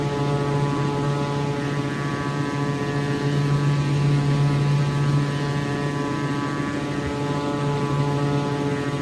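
Pilatus PC-6 Turbo Porter turboprop engine in the X-Plane 11 flight simulator, a loud steady harmonic drone with a constant pitch and no talk.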